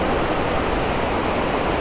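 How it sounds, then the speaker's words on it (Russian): A constant, dense roar of falling water fills the clip, loud and unbroken from the nearby Düden waterfall in Antalya, Turkey. "нашли второй водопад"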